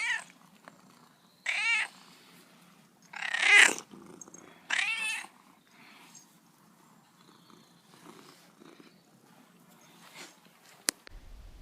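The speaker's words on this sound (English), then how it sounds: "Check out this cat." A ginger cat meows several times in short, fairly close bursts, separated by quiet pauses with faint background noise.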